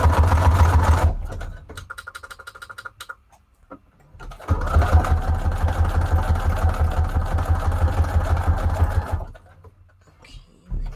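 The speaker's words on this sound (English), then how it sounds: "Let's do zigzag for this. We gotta sew these together." A sewing machine runs in two loud bursts of rapid zigzag stitching on paper scraps and fabric, with a quieter stretch of slower stitching between them and brief pauses before and after.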